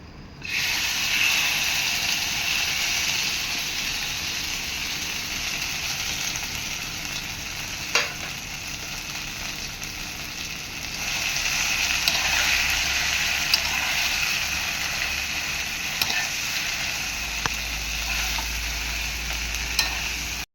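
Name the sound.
soybean paste sizzling in a pan on low heat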